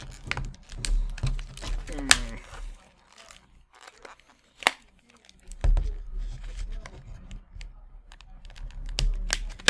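Tape tearing and cardboard crinkling as taped packaging of an Arkham Horror card game expansion is opened, with scattered close rustles and crisp rips across the handling, a voice speaking now and then.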